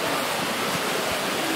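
Steady broadband rush of a waterfall seen from a bridge above, continuous and fairly loud with no talk over it.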